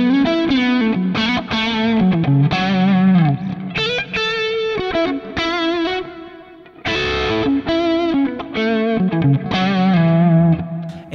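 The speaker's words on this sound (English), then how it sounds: "in C, I usually go for like the old school green scream" Electric guitar played through a Kemper profiler with a Tube Screamer-style green overdrive, giving a honky, mid-heavy distorted tone; a busy run of picked riffs and chords, loud and close, with a brief gap near the middle and no talking.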